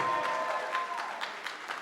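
Brief applause from a gala fundraiser audience after pledges, a moderate patter of clapping with some distinct hand claps standing out as it gradually tapers off.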